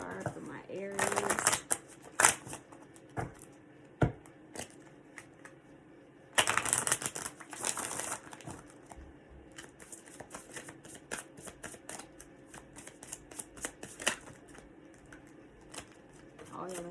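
Tarot cards shuffled by hand and then drawn for a reading, with bursts of riffling and soft flicks and slaps of single cards, close up, between quieter stretches and light speech.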